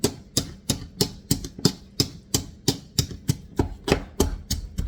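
Thinly cut carrots being mashed with a small masher for a 1796 carrot pudding, about fifteen sharp, evenly spaced thumps close by over five seconds, each strike clear and percussive with no talk.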